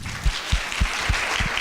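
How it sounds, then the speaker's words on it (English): Applause from a workshop audience after a panel, a steady wash of clapping with a few distinct thumps standing out, fairly loud. "Let's give them a round of applause."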